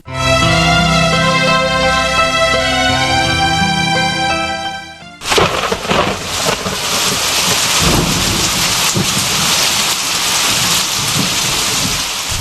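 Heavy rain pours steadily with thunder rumbling, taking over abruptly after a sustained tonal sound at the start.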